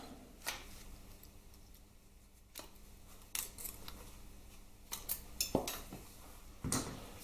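Metal snips cutting small parts in half while a Harley Twin Cam 88 engine is stripped down, a scattering of faint, crisp clicks and snaps at irregular moments in a quiet workshop.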